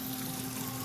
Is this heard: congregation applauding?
no